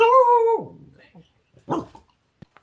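A dog gives one drawn-out whining bark up close, followed by a shorter yip, with people's voices in the background.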